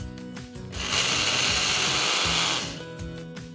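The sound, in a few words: mixer grinder grinding sago with chilli and ginger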